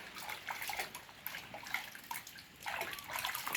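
Water splashes and pours in a bath while a small child is washed, with soft irregular sloshing and trickling close by, moderately quiet.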